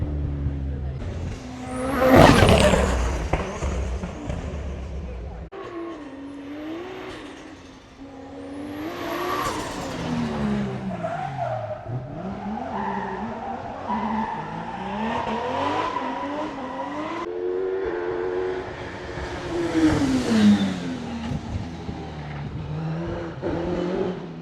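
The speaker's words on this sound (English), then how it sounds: "You got the Aston Martin smart car going down, STO, Jag, supercharged, and Temerario in the orange." Supercars at a car festival, including an Aston Martin, a Ferrari STO, a supercharged Jaguar and an orange Lamborghini Temerario, roar past one after another with revving engines, rising and falling pitch and a brief tire squeal, loud and close, with some talk.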